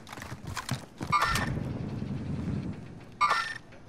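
In a Call of Duty match, a horse whinnies loudly with a shrill, wavering neigh, followed by a rumble of hoof clip-clops and a second sharp whinny near the end, close and prominent with no talk over it.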